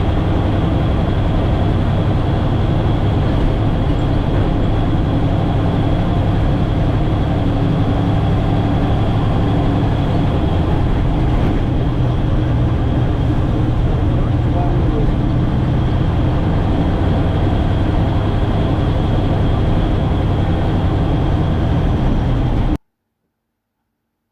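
An AEC Militant army truck rumbles on the road run, its engine giving a loud, constant low drone heard from inside the cab for over twenty seconds, with slight shifts in tone as gears change.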